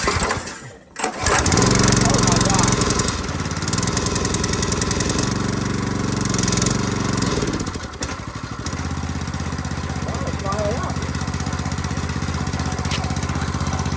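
A Kohler small engine fitted with a new carburetor fires up after a pull and settles into a loud, steady, close running drone that holds for over ten seconds.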